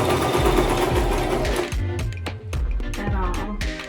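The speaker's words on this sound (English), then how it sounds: "So this is how you operate the sewing machine." A domestic sewing machine stitches fabric in a continuous, close mechanical whir. Partway through, the speed drops into a choppier run of individual needle strokes.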